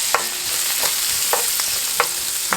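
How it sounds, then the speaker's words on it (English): Greens sautéing in a hot pan, a steady sizzle with a faint hum beneath it and periodic scrapes and stirs about every half second to second, close by with no voices. "But I like them sometimes just sauteed like this too"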